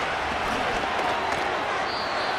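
Stadium crowd at an NFL game, Jaguars at Eagles, a dense steady roar of cheering fans filling the background, with a commentator's voice over it.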